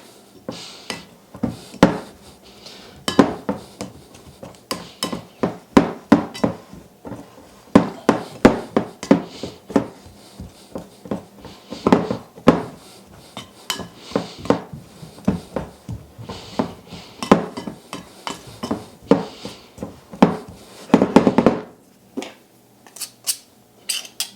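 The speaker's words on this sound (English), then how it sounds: "with the pastry cutter too, sometimes you need to just give it a bit of a clean off here so it cuts into the flour a bit better" Pastry cutter working butter into flour in a bowl for maple butter tart dough, making irregular clinking, scraping strokes with a few louder knocks, close and steady with no talking.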